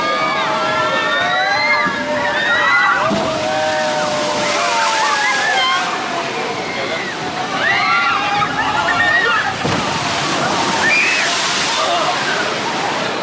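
Tatuki Splash water ride at PortAventura sloshing and splashing steadily, with rushing water and bursts of splatter, overlaid by constant crowd chatter and high excited voices throughout.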